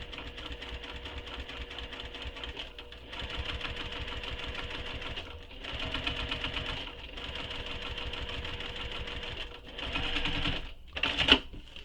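A sewing machine stitches along the seam of a crossbody bag in steady, rapid mechanical bursts with brief pauses between runs, close and moderately loud, with no talking.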